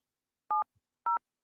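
A telephone keypad dials a phone number, producing three clean touch-tone beeps with silent gaps between them, evenly spaced and fairly loud, with no talking.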